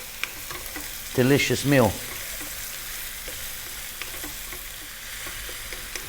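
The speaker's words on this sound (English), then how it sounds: "About 4 minutes again on this high heat. We need to keep it moving all the time now." Cabbage sizzles loudly in a pan over high heat while being stirred constantly, with scraping and crackling close up throughout; a voice speaks briefly near the start.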